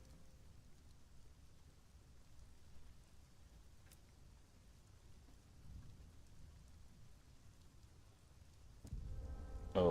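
Storm in a video game, steady rain hiss with low rumbling thunder beneath it, faint and continuous, swelling louder near the end where a bright tonal game sound enters; no talking.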